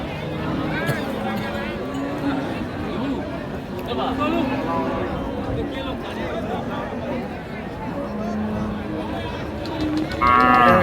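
Cattle low repeatedly at a rural cow market in Dinajpur, with deep moos rising over a steady murmur of crowd chatter and people talking nearby.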